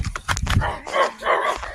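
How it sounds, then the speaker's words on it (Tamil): A dog barks several times in quick succession, fairly close, with a rough, strained tone and no talking. "நாய் திரும்ப திரும்ப குறைச்சிட்டே இருக்கு"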